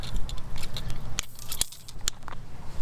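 Wire on a T-post tomato trellis is snipped in a few sharp, close clicks amid small rustling and handling noises, with no one speaking.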